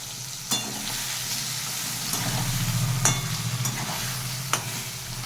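A spice mix of cumin, chili and turmeric powder frying in a pan, a constant close sizzle broken by a few sharp scrapes and taps of the spatula and no talking.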